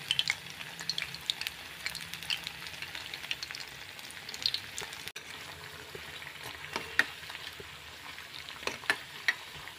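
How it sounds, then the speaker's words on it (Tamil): Potato bonda snacks deep-frying in hot oil, a continuous close crackling sizzle with scattered sharp pops and spatters throughout, no voices. "இது பொரியட்டும்."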